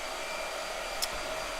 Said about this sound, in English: Let's ask when he's done blow drying.